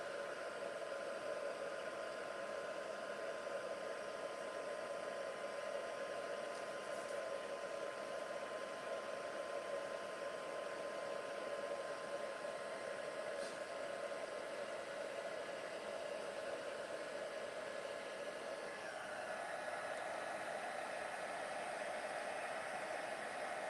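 Heat gun running steadily on its own for the whole stretch, a constant airy whir with a faint motor hum underneath, heating up before being used to melt gilding material.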